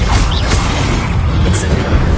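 Expelliarmus disarming spell cast in the video game Hogwarts Legacy: a dense, rumbling magical burst with a couple of sharp bright flicks, steady and loud throughout amid continuous game ambience.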